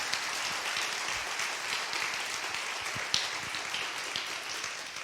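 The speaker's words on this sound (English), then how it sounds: "Let's have a round of applause for our nominees" An audience at a special education awards ceremony gives a sustained round of applause for the nominees, dense steady clapping from many hands throughout, fairly even in loudness.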